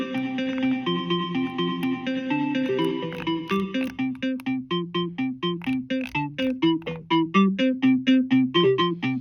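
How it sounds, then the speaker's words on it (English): A bright Woovebox synthesizer plays a fast, rhythmic arpeggiated pattern drenched in reverb, each note ringing and smearing into the next with a spacious wash. "turn that up and you can really hear what the reverb's doing"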